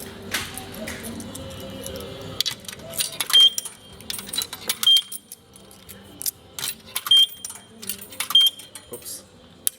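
Coins fed into a car wash pay machine make bright clinks and drops in short bursts, with a few electronic beeps between them, while a person talks over the clicking.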